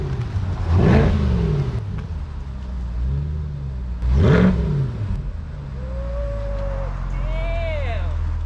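A 2021 mid-engine C8 Corvette convertible revs hard in sport mode, with two loud, rising engine blips a few seconds apart, settling to a rumbling idle between them while people talk nearby.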